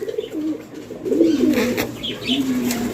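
Lotan pigeons cooing in repeated low, rolling phrases, fairly close, with bird chatter in the background and no talking.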